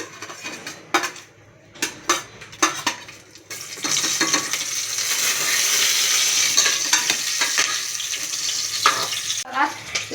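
Bay leaf, cinnamon and cloves dropped into hot oil in a pan for dosa kurma, a sudden loud hissing sizzle that holds steady after a run of close clinks and clatters of utensils and containers.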